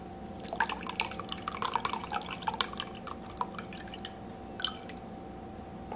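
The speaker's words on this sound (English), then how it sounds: "Squeeze the lemon." A whole lemon squeezed by hand, juice dripping and splattering in a quick irregular patter of small wet drips and squishes, close and moderately loud over a steady low background hum.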